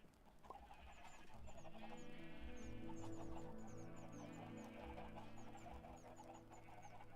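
Minecraft chickens cluck in a game setting, repeated short high clucks scattered over a steady low droning bed, fairly faint and with no speech.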